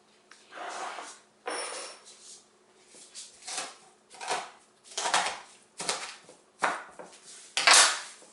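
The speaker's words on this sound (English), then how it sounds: "And then I chop. And I keep chopping, so you'll need a sharp knife." Steady, repeated knife chops through comfrey leaves against a board, loud and close, coming in a quick rhythm of sharp crunchy strikes with no talking.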